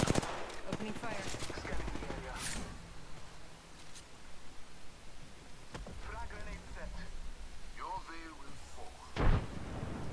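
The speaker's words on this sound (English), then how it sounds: "Opening fire." Automatic weapon fire in Apex Legends during a close-range firefight, bursts crackling through the mix with a sharp blast near the end, under steady game noise and a voice talking over the action.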